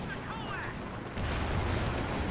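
A Sherman tank's high-explosive shell lands in a Company of Heroes 2 battle, a dull heavy thump that kicks off a louder, rumbling wash of battlefield noise, with distant gunfire and explosions layered underneath.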